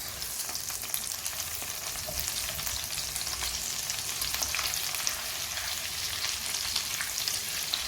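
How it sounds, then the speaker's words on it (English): Garlic and ginger paste frying in oil over medium heat for an egg curry, a dense, even crackling sizzle that holds steady throughout with no voices. "I'm going to add garlic and ginger paste. And that's about 1 teaspoon of garlic and ginger paste. Fry that."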